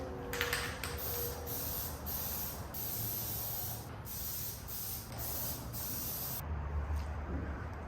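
An aerosol can sprays clear coat onto silver-dipped wheels in repeated hissing bursts with short gaps, close and fairly quiet, ending in a brief pause and a soft rustle.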